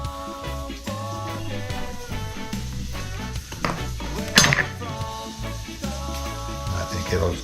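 Sausage frying in a pan with an onion mixture, a soft sizzle under repeated clinks and scrapes of utensils against the cookware, close up, with a voice talking over it.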